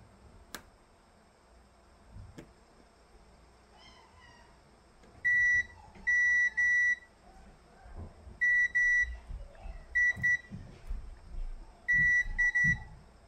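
A multimeter gives a series of steady electronic continuity beeps, some short and some held, while probing the contacts of Game Boy game cartridges, alongside faint handling clicks.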